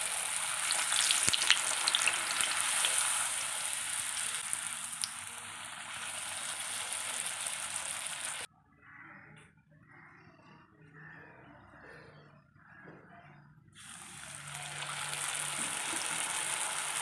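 Poori frying in hot oil: a steady broadband sizzle from 0 to 8 s, then a quieter stretch, and the loud frying hiss returns after about 14 s.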